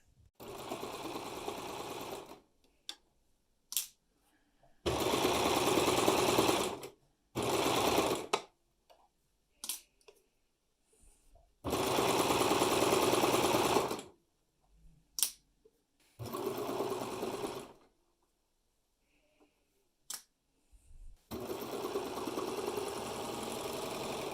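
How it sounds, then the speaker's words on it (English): A sewing machine stitches a godet seam in a top in several bursts, some long and some short, with silent pauses and small clicks between them, loud and close with no voices. "with a 5/8 inch seam allowance, just sew that seam"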